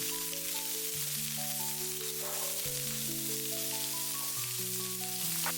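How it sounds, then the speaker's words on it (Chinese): Drained pork ribs stir-frying in a hot wok with oil and lard, a continuous loud sizzle that stays even throughout, with music playing underneath. "油熱之後，把控干水分的排骨直接倒在鍋裡，快速翻炒，把排骨表面的水汽完全炒乾，炒到微微焦黃。"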